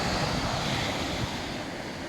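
Sea waves washing ashore at low tide at Barangay Luk, Salay, Misamis Oriental, a steady close-up wash mixed with wind buffeting the microphone.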